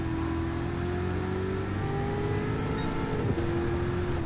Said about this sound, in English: V8 engine.